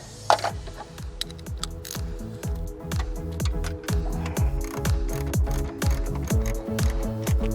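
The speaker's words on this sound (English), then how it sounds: "Use one of your ratcheting sockets." A ratcheting socket wrench tightens a brake brace bolt on a Nissan R35 GT-R, giving a steady run of rapid, close mechanical clicks that continues throughout with no talking.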